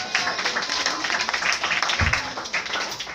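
Church congregation clapping in praise during a Swahili-English service, a dense steady patter of many hands filling the room throughout with a brief low thump partway through.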